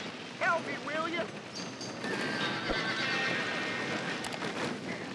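A horse in the video game Red Dead Redemption gives a sharp whinny, with clip-clop hooves and a chaotic noisy scene of rushing sound and bursts around it, voices audible in the mix.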